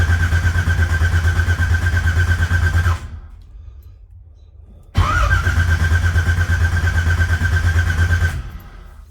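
A car engine idling with a TH400 automatic transmission after a distributor adjustment: loud, steady rumbling idle, then a pause that drops to a quiet hum, and the engine starts and runs again before cutting off.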